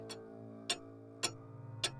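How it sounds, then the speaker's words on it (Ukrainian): A wall clock ticks in a dark, quiet room, with four soft, evenly spaced ticks over a faint low hum and no voices. "тихе тікання, монотонне, нещадне."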